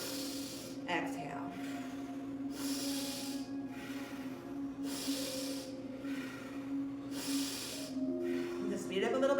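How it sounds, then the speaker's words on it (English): Slow, audible breaths drawn in and pushed out at a steady pace during a gentle chair yoga session for cancer patients, each breath a soft airy hiss, set over a low steady hum with a voice talking now and then. "So we inhale, exhale."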